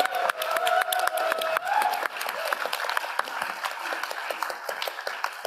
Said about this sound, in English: can we give another round of applause to the Indiana team for this amazing conference?